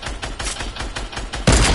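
Rapid gunfire in a video game, aimed at another player, rattles in a string of sharp repeated shots with a heavier, louder burst near the end.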